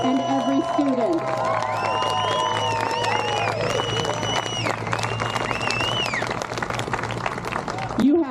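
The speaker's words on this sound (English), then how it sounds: "Let's give a huge round of applause, not only to Leslie, but to every teacher, every school staff member, and every student" A crowd at a Peoria protest cheers and claps, with bright whistles and shouts riding over sustained applause for nearly the whole stretch.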